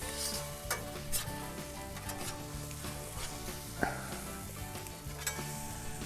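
A burger sizzles and fries steadily on a backyard smoker grill as it is turned over, with a loud continuous crackle and a few sharp spatula scrapes and clinks.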